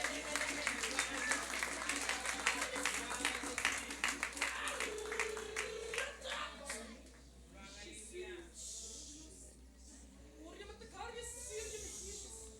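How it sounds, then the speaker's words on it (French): A church congregation claps during a service, rhythmic applause at first that thins out as a voice speaks over it and continues talking after the clapping fades. "on applaudit le Seigneur."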